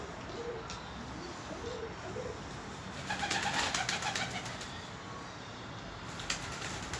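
Soft, low cooing of pet pigeons early on, followed by a brighter burst of chirping from several birds over a constant background hiss.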